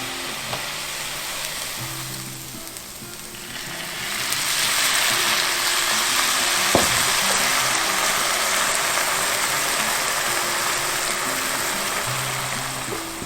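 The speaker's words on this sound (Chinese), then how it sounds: "加入酱油、胡椒粉、水、青江菜汁，中火熬煮" Soy sauce, pepper, water and bok choy juice simmer over medium heat in a pot for Shanghai vegetable rice, a steady hiss and bubbling sizzle that swells after a quieter start, with one sharp clink.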